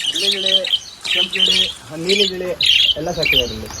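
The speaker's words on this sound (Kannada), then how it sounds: "ಇವ್ರು ಹೋಮ್ ಸ್ಟೇದಾಗ ಗಿಳಿ ಎಲ್ಲ ಸಾಕಿರೋದೆ ಕಲರ್ ಕಲರ್ ಗಿಳಿ ಹಳದಿ ಹಸಿರು ಬಿಳಿ" Colourful pet parrots in yellow, green and white, kept at a homestay, squawk loudly and close by in four or five harsh bursts, one after another, with little gap between them.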